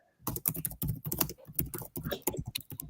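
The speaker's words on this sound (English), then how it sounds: "Slams those keys." Fast, forceful typing on a computer keyboard, keys struck hard in dense irregular bursts of close clicks and clacks, with no voices in between.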